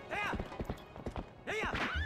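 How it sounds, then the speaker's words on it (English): Epona the horse from Twilight Princess HD clops her hooves in a quick run of hits, with loud neighs at the start and again near the end and no talk. "Very skittish horse I have."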